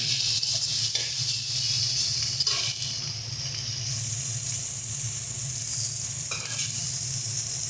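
Spices and tomato are sautéed in a pan for a soybean curry, giving a steady, close sizzle with occasional stirring scrapes.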